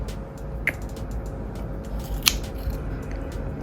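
Rotten anthurium roots are snipped through twice, each cut a crisp, short click standing out from a steady low background hum, about a second and a half apart.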